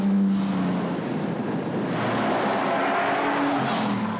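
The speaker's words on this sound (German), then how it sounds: "Jetzt lenke ich ein, gebe wieder Gas, ja, jetzt müsste ich schalten" A Bentley Continental Supersports drives on a race track, its engine a loud, sustained close roar that swells slightly as it pulls away under acceleration.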